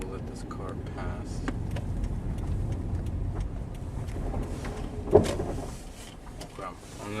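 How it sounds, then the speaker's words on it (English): A car rolls past on a road with a low, steady rumble that fades afterward. A person talks nearby over the engine noise. "So we'll let this car pass."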